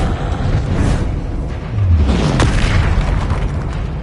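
A Confringo explosive spell goes off in the Hogwarts Legacy video game as a loud, booming blast with deep rumbles. A second thud follows partway through and the boom rolls through the whole clip.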